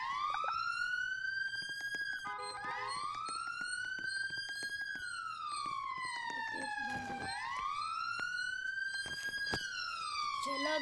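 A police car siren in the Roblox video game wails in long rising and falling sweeps, loud and steady across the whole stretch, with a few clicks and faint background sounds underneath.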